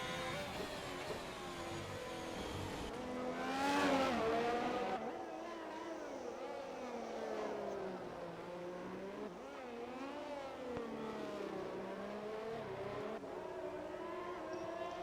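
F1 race cars run at the Monaco Grand Prix in an F1 video game, with high-pitched engine whine rising and falling through gear changes as cars pass, heard continuously under a commentator's voice.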